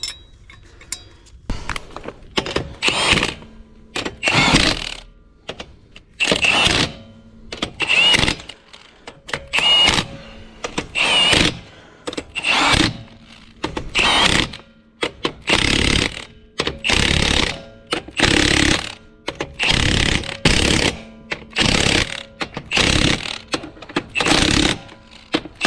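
A tool torquing down bolts on the wheel adapters of a 2024 Duramax truck, repeated loud bursts of rapid ratcheting impacts, each lasting about a second with short quiet gaps between, continuing throughout.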